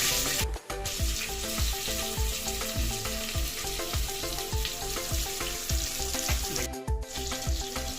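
Onions sizzle in hot oil with mustard seeds, a steady dense frying hiss with crackling pops throughout, close and continuous with no talk.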